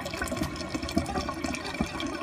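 Water gurgles and trickles steadily down an aquaponics overflow line in a greenhouse, a continuous close splashing flow with small irregular drips and bubbles, no voices.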